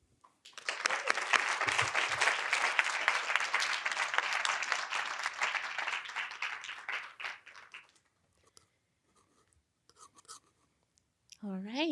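A university talk event audience gives a dense burst of applause welcoming a speaker, clapping steady for about seven seconds before fading out into quiet, followed by a voice starting to speak.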